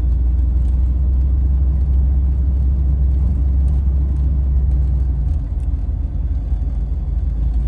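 A van drives along a potholed residential road into a cul-de-sac in Gary, Indiana, its engine giving a steady low rumble with road noise throughout, close and fairly loud with no talking.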